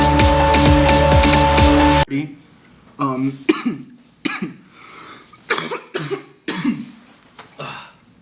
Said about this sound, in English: Coughing attack.